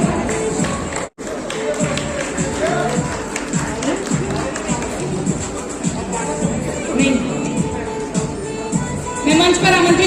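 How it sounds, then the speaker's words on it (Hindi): An audience at a women's honour event claps to welcome a guest onto the stage, steady crowd applause with babble and cheering mixed in, briefly cut once near the start. "एक बार नीलम जी के लिए जोरदार तालियां हो जाए"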